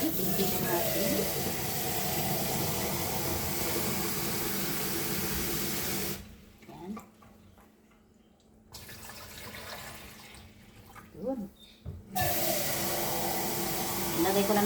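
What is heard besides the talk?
water being poured into a new water dispenser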